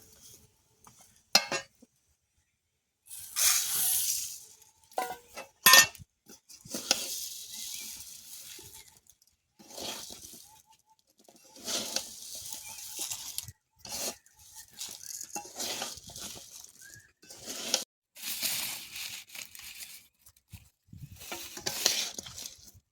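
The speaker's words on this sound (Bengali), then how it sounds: "হালকা আঁচে নাড়তে হবে, চিনিটা গুলবে" Tamarind pickle with sugar being stirred in a pan over low heat in a village kitchen, with intermittent scraping and soft sizzling bursts and clinks of utensil on metal, quiet pauses between strokes.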